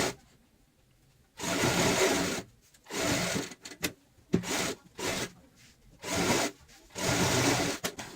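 A sewing machine stitches a cushion cover in repeated bursts, each run a steady buzzing whir lasting about a second, separated by short pauses, recorded up close.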